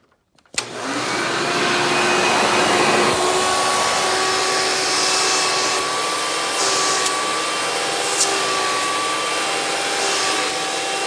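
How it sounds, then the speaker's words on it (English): A Hoover Legacy Total System Performance 830 upright vacuum starts with a click and runs with the hose tool in use, a loud steady whine and rushing airflow with slight shifts in pitch as suction changes. "So let's go ahead and demonstrate the tools on this."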